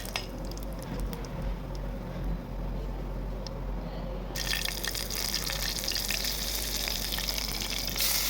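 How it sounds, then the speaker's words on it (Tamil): Onions sautéing in oil in a pan, with mustard seeds, curry leaves and chilli, make a steady, soft sizzle that grows brighter and louder halfway through, heard close up with no talking. "ஆனியன் நல்லா ப்ரௌனிஷ் ஆகிற வரைக்கும் நல்லா வதக்கி விட்டுக்கோங்க"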